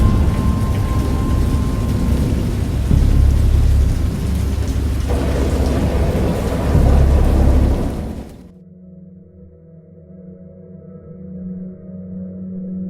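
A loud, steady downpour of rain with rumbling thunder for about eight seconds, then it cuts off abruptly to a quiet low hum.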